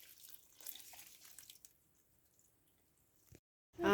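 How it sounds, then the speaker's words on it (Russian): Water pouring and splashing while watering plants outdoors in winter, a soft uneven trickle in the first second and a half, then near silence with a brief splash before a loud close noise at the end. "Смотри, вот смотри, как нужно поливать."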